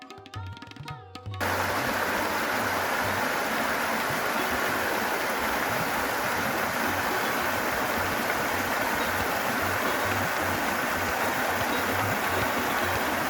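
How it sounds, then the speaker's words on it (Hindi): Small Himalayan waterfall beside an alpine meadow on the Panchachuli trek, a steady broadband rush of falling water that begins abruptly after a brief quieter moment and continues unbroken and close. "रास्ते में का ये छोटा झरना खूबसूरत था और इसका जल एकदम निर्मल था"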